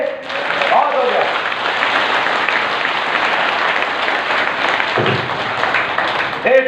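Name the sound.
audience applause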